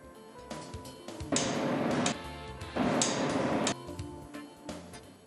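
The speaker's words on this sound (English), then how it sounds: "Tighten the coupling pieces using the torque spanner." Tightening coupling pieces on a MAN B&W marine diesel engine with a torque spanner: two sustained loud mechanical bursts of grinding, ratcheting noise, separated by quieter clanks, in an echoing engine room.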